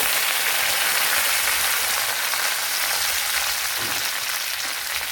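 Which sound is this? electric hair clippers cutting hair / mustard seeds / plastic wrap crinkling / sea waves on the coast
mustard seeds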